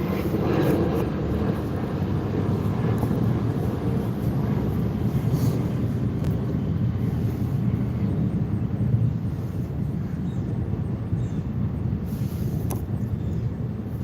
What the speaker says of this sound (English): That's Ken Griffin's plane